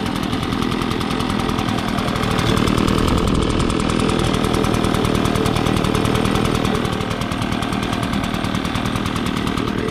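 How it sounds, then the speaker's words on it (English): A new gas-powered leaf blower idles steadily after a choked pull start, its small two-stroke engine giving a loud, continuous close-up rattle with a slight rise in the middle and no talk. "I'm gonna let it idle for just a second."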